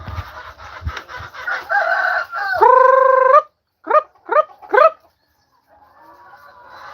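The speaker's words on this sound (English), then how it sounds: "Trying to get my male rooster out." A male rooster crows loudly nearby in a long drawn-out call, followed by several short sharp squawks, with a dog barking faintly at the start and clucking afterward.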